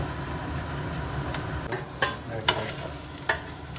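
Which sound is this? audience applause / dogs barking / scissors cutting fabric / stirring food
stirring food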